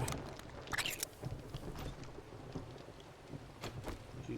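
Steady rain in the survival game 7 Days to Die, a dense broadband hiss with soft rumbling low end and scattered brighter patter, continuous and fairly quiet, no voices.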